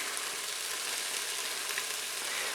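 Carrots sizzle and fry in a pan with stock as the base for a vegan beetroot soup, producing a steady, dense hiss without pause.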